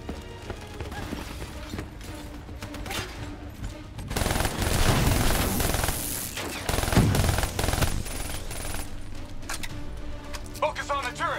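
Gunfire from a firefight in the shooter video game Call of Duty: Black Ops 3, dense bursts of shots that swell louder midway, mixed with game effects and music.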